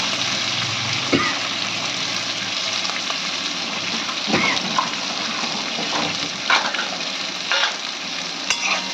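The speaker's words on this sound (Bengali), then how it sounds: "পেঁয়াজ কুচিটাও দিয়ে দিলাম।" Chopped onion fries in a pan with a dense, steady sizzle close by, broken now and then by sharp scrapes and knocks of a spatula stirring.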